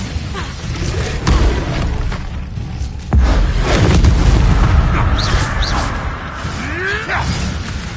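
The Expelliarmus spell strikes in the Hogwarts Legacy game, with loud booming impacts, a sharp thud and whooshing magic bursts over a rumbling battle backdrop, while a voice speaks between the hits.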